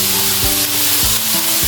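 Spices go into a hot pan for a pepper sauce served with kingklip fish, giving a loud, continuous sizzle with a few quick stirring scrapes and no voices.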